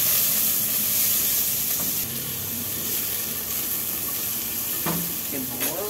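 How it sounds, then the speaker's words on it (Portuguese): Onion sautéing in a hot pan, a loud, steady close sizzle with crackling and stirring, and a few short squeaky scrapes near the end. "Vou dar a cebola para refogar"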